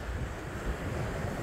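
Steady wash of sea waves against a Black Sea shore with an easterly wind buffeting the microphone, a continuous low rumbling surf with no voices.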